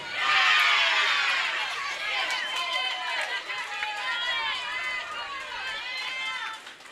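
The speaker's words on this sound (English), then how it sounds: "A lot of cheering." A crowd at a collegiate bowling league championship cheering and shouting, lively and sustained with many overlapping voices and excited calls, fairly close.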